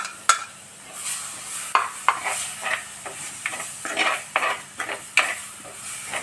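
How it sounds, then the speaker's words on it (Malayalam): Tomato-juice masala for a Kerala fish curry bubbling in a pan, a soft simmer broken by repeated sharp stirring and spoon scrapes against the metal. "തക്കാളി പേസ്റ്റുമായിട്ട് ചേർന്നിട്ട് നമ്മുടെ മസാല നല്ലോണം തിളച്ച് വരുവാണ്"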